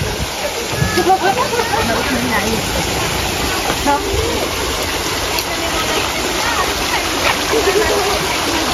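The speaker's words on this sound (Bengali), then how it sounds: "মিনি ঝর্ণা।" A small waterfall near a hill resort at Chimbuk in the Bandarban hills gives a continuous rushing, splashing flow, fairly loud and close, with voices murmuring faintly underneath at times.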